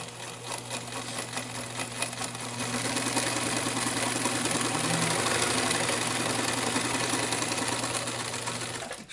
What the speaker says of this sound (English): I'm gonna stitch around here. It needs a little help here because it's so thick.